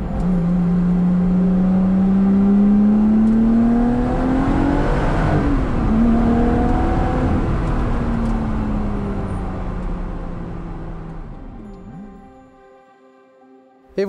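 A Lotus Exige V6 sports car engine drones loudly and close, its pitch climbing as it revs and pulls, then gradually fading and dropping away near the end.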